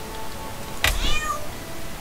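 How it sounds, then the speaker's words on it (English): A cat in the video game South Park: The Stick of Truth gives a single short, clear meow over quiet game background, with no talking during the sound. "Hey, a cat."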